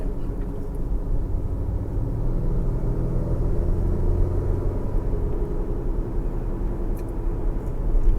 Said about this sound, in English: I can hear the turbo build up a lot more